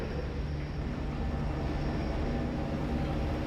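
A tram pulls into a station in the video game F.E.A.R. 2: Project Origin, giving off a steady, loud mechanical rumble with a low rail drone and faint whine that holds evenly throughout.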